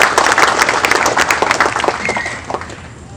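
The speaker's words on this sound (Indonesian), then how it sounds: "Mari kita tepuk tangan." Birthday celebration crowd applauding for a student association's 13th anniversary, a dense, loud burst of many hands clapping that keeps going for about three seconds and slowly thins.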